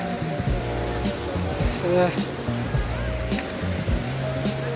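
Rushing water where the small Kath Khola stream meets the larger Kali Gandaki river at Kagbeni, Mustang, a steady broadband roar heard close, with people talking over it throughout.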